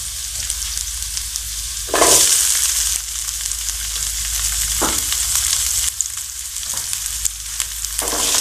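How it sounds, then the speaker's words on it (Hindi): Capsicum and onion sauté in a hot pan with a loud, continuous sizzle, broken by a few sharp bursts where the vegetables are stirred or tossed. "अब इन दोनों को हम सॉफ्टे कर लेंगे"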